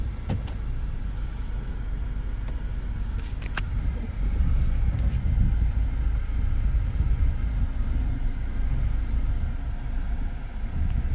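Interior road noise in a 2006 Honda Element on the move: a steady, loud low rumble of tyres and engine, with a few faint clicks and no talking.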